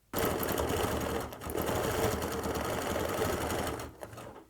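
A sewing machine stitches steadily in free motion quilting on a quilt border, its fast, even needle chatter running almost nonstop at close range with one brief dip partway through.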